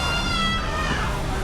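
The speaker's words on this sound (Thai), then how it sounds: "เสียงแมวร้อง" A cat gives a drawn-out, wavering meow at an evening market in Thailand, close and fairly loud, lasting over a second.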